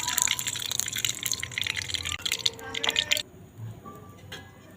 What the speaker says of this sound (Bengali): কড়াতে দিয়ে দেবো সরিষার তেল।